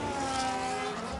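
Race car in the F1 25 video game spinning out, its engine holding a steady high whine with a sustained tire squeal, loud and continuous through a short moment.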